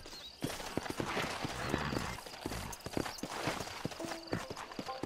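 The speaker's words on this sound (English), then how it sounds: "Get on the horse." Horse hooves clip-clop in the video game Red Dead Redemption 2, a rapid close rhythmic patter of hoofbeats over a noisy in-game ambience, with a brief whinny-like tone near the end and no speech.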